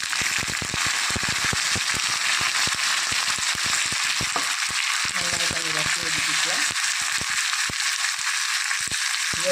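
Dried red chillies and curry leaves frying in hot oil for a Kerala pulissery made with pumpkin and mango, a continuous loud sizzle punctuated by sharp crackles and pops, with a brief stirring scrape midway.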